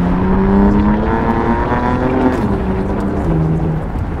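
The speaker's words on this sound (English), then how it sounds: "I'm gonna put it in manual, and I'm gonna put it in Sport Plus. Let's give it a few pulls." A BMW E89 Z4 35i in manual mode and Sport Plus accelerates hard, its engine note climbing steadily and loudly through the revs with a shift, heard from inside the car with no talking.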